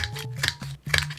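Three quick scissor snips cutting paper label corners, crisp and close, spaced evenly with short pauses between.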